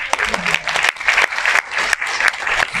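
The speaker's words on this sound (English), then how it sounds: "Can we give them a round of applause?" Applause in a classroom as the room claps for parents who brought their children to class, a steady dense patter of many hands over nearly three seconds with a few voices mixed in.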